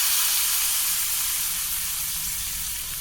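A tempering of curry leaves fries in hot oil for buttermilk pulusu, a loud, even, close hiss of sizzling that holds steady throughout and fades slightly toward the end.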